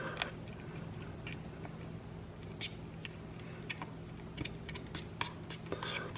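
A spoon stirs canned Underwood roast beef spread, giving soft scraping and light clinks against the container, with intermittent taps spread through a quiet, steady background.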